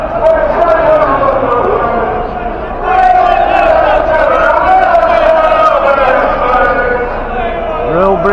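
A large, loud crowd of St George's Day marchers in London jeers and bellows at a line of police, a continuous roar of raised voices swelling and surging close by.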